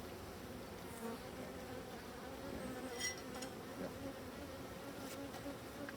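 Honeybees buzz steadily during the opening of a hive, a dense, continuous drone that stays fairly faint, with a few light clicks and taps.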